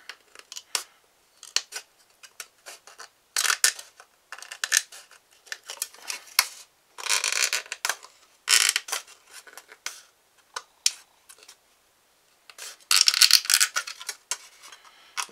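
Scissors snip along the edge of a Phoenix Models Genesis model kit part, producing repeated short crisp cuts in uneven bursts with brief pauses between, close and moderately loud.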